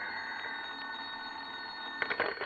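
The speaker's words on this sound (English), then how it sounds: "He was reading the morning paper at home when the phone rang." A telephone rings in a radio drama scene, a steady, bright electric bell tone that carries throughout, with a few sharper bursts near the end.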